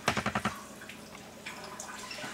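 Slow water trickling during a water filter test, opening with a quick run of five sharp splashy drips and then fading to faint, scattered droplets and a soft trickle.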